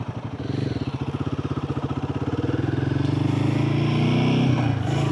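Royal Enfield Guerrilla 450 motorcycle under way, its engine thumping in a fast steady pulse that rises as the bike accelerates, loud and close with wind rushing behind it.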